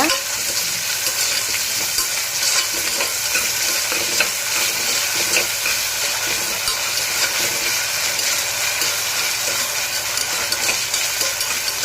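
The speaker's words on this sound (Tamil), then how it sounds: "இஞ்சி பூண்டு பேஸ்ட்டு போட்டுக்கோங்க நல்லா பச்சை வாசம் போகிற அளவுக்கு நல்லா வதக்கிக்கோங்க" Ginger garlic paste sautéing in a pan for ghee rice, a steady close sizzle with stirring scrapes running throughout, no voices.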